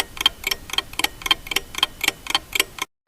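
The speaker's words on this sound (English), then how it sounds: "ticking sounds of clocks." Several clocks tick in a quiet room at night: about a dozen crisp, evenly spaced ticks in a steady rhythm, close and clear, before the sound cuts off.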